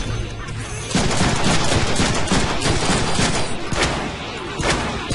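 Heavy, loud gunfire erupts in the Deadpool video game, booming shotgun blasts and a dense barrage of shots that start abruptly and continue almost without pause, close and chaotic.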